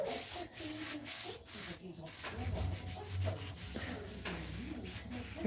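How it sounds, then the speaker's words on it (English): Hand sanding of a surface, a continuous scratchy rubbing with rhythmic back-and-forth strokes, moderately close and fairly quiet, with faint voices in the background. "I think I sanded most of this"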